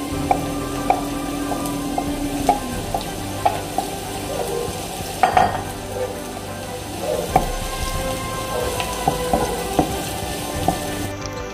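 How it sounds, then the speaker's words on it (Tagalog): Chopped onions frying in a hot pan make a steady low sizzle, broken by sharp clinks and scrapes of stirring that come out louder above it, with no talking. "Lagay natin ang tatlong sibuyas. Mas madaming sibuyas, mas masarap."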